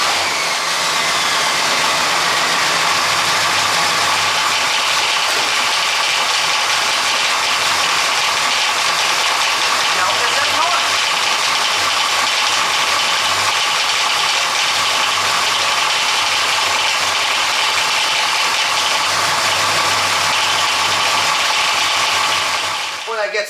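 A car engine idles steadily while being checked for a rattle traced to the power steering pump, giving a loud, constant mechanical whir with a fine ratcheting clatter running through it from start to finish.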